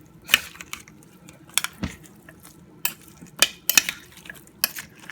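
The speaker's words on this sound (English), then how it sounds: "Got some butter I'm putting in. I'm just gonna mix up everything." Scraping and clinking of a spoon against a pot as butter is stirred into homemade beef stew, a series of sharp intermittent knocks over a low background hum.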